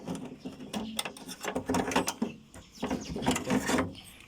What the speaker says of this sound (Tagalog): ating actuator testing natin